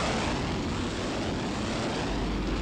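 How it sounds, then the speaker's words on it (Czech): Military aircraft landing at an airfield, a dense, loud engine roar filling the whole clip with a steady rumbling wash of noise and no clear rise or fall, no voices over it. "povoluje přistání letounů třetí generace"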